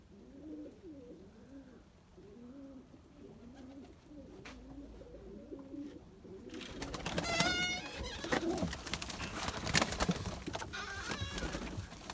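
Pigeons during a rainy flight session, with soft rhythmic cooing up close at first, then a louder burst of flapping wings and scattered bird sounds taking over.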